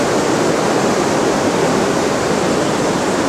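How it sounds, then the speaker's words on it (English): Muddy spring-swollen river waters rushing through Sarajevo, a steady loud broadband roar with no breaks or voices. "Little pan up the muddy spring-laden waters of this river."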